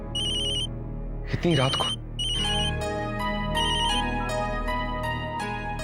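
A telephone rings with a repeating electronic ringtone in a domestic drama scene at night, loud and steady throughout, while someone speaks briefly over it.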